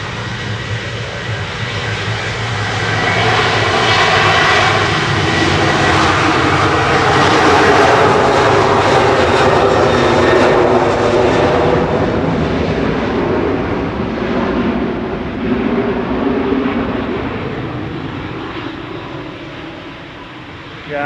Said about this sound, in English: Ryanair spooling up now, heading off to Dublin with flight 561